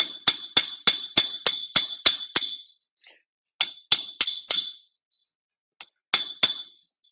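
A smooth hammer strikes metal wire while making beads: a quick run of about eight sharp, bright metallic taps, a pause, then another burst of four and a couple of final strikes, loud and close with no talk.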